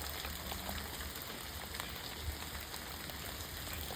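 Heavy monsoon rain falling in Kerala, a dense, steady hiss of drops pattering on surfaces. It stays constant and moderately loud from start to finish, with no voices.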